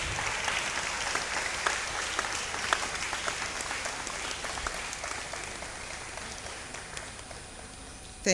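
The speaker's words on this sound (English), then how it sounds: "He deserves a louder round of applause." Audience at an inaugural university lecture applauding, a dense, sustained patter of many hands clapping at moderate distance, with no speech over it, fading slightly at the end.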